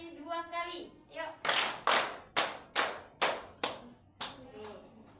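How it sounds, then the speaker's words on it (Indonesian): A class of children claps a three-beat pattern twice, six crisp, loud claps in two even groups, with children's voices before and after. "tepuk 3 kali 2 kali."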